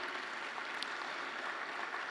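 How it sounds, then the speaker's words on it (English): Civic audience at a downtown Fresno event giving a round of applause, a faint, even wash of many hands clapping from a distance, steady and unbroken without voices. "Give yourself a round of applause."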